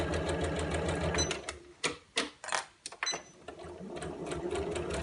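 A sewing machine runs in rapid stitching bursts with short pauses as it reverses back and forth along the seam of a fabric tablet case, loud and close.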